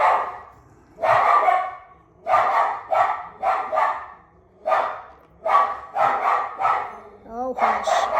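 A dog barks in repeated loud bursts, close by, in uneven clusters of several barks with short pauses, and ends with a brief whine.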